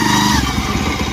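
A second-hand motorcycle engine runs close by with a steady, throbbing chug, heard alone without voices.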